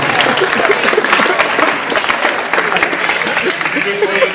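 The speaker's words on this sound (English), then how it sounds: "allow the applause you're about to hear to take you to a deeper and deeper level of relaxation" Loud, dense audience applause at a live hypnotism stage show, steady clapping from a crowd filling the whole stretch without pause.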